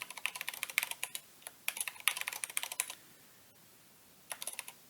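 Fingers type commands on a computer keyboard in quick close bursts of clicking keystrokes, with a pause and then a short final flurry.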